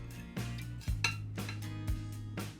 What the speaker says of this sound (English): I'm placing the zucchini spirals around our patties here on the plate.